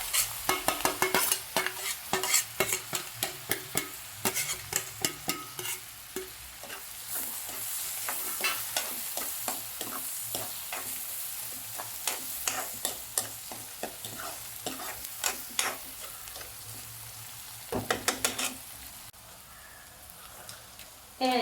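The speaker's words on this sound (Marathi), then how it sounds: "तडका द्यायचा आहे." Hot tempering for sarson ka saag sizzles steadily in a pan while a spoon scrapes and stirs in quick, irregular clacks, loud and close throughout, with a voice briefly heard alongside.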